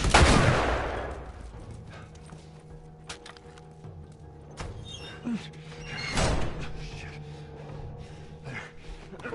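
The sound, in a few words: gunfire from a gun in video game The Last of Us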